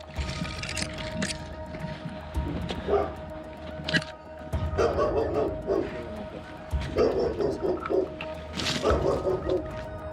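A dog tied up at the bottom of a garden barks in short bursts, fairly close, while people talk over and around it during a tense gendarmerie operation.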